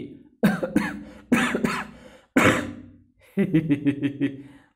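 Four bursts of harsh, forceful coughing from chili-pepper smoke, close and loud, the last a rapid run of short hacking coughs.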